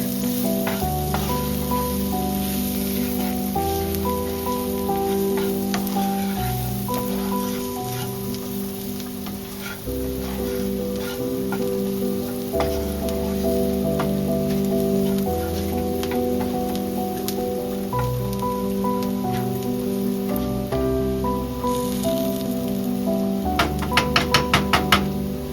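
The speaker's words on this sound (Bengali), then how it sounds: "এরপর পুরো জিনিসটাকে আমরা একটু ভাজা ভাজা করে ফেলবো।" Cloves and whole dried red chilies fry in oil as the base for beef bhuna, giving a constant, close, rain-like sizzle under steady tonal background sound, with a few sharp crackles toward the end.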